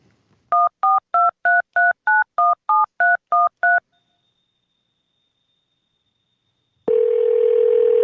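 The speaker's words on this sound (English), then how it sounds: "the court will go ahead and make that phone call" A telephone call is placed from a courtroom, with a quick run of about eleven evenly spaced dialing tones, then silence, then a steady ringback tone starting near the end, loud and clear with no talk.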